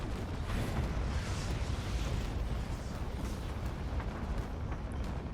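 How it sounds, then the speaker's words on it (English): Missiles launching and exploding in the space combat game Fractured Space: a dense, continuous rumbling barrage of blasts and booms, loud and unbroken throughout. "Missiles out."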